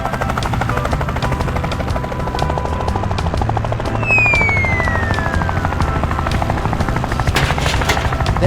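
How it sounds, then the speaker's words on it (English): A cartoon helicopter flies in to deliver a greenhouse to a farm, its rotor chopping loud and steady throughout, with a descending whistle sweep partway through. "The helicopter quickly delivered the fully assembled greenhouse to the monkey."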